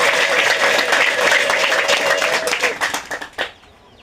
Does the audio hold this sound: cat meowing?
no